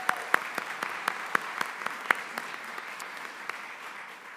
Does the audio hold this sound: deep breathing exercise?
no